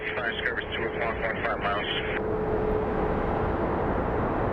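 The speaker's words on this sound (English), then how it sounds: "737-900 is going to be coming in any second." A Boeing 737-900 airliner arriving from Chicago to land at Phoenix Sky Harbor, its engine roar a steady, loud broadband rumble, with a person talking over the first half before the jet noise continues alone.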